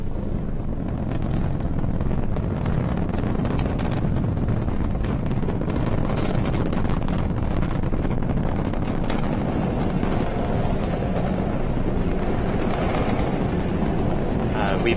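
Falcon 9 rocket lifting off, carrying the X-37B spaceplane: a steady, loud, broadband roar with crackling bursts, like wind buffeting a microphone, running unbroken throughout with no clear talk.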